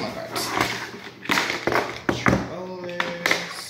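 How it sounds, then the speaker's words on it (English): Pokemon cards knocked over beside a Nintendo collection, giving a few sharp taps and thuds amid rustling, with a voice talking nearby. "Oh, I knocked over Pokemon cards."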